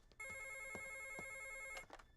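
A telephone in a film rings with one sustained electronic ring of about one and a half seconds, clear and fairly close, with no voices over it.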